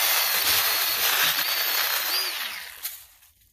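Milwaukee M12 Fuel cordless pruning saw, a compact mini chainsaw, cutting through tree branches in a steady, loud buzzing whine that holds for about two and a half seconds, then winds down and fades.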